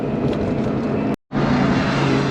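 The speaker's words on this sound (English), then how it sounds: "There's that Lamborghini. He got it running." A Lamborghini's engine runs with a steady, loud mechanical drone. The sound cuts out abruptly for a moment partway through, then resumes at the same level.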